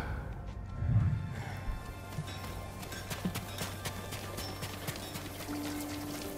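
Hooves clip-clop at a steady trot in the video game Ghost of Tsushima over a low hum, with a brief soft snort near the start.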